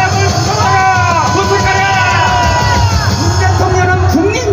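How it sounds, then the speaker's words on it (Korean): A large crowd at a Korean political rally gives a loud, sustained cheer, with whoops, yells and overlapping shouting voices surging together close to the listener. "여러분, 큰 함성을 질러주세요."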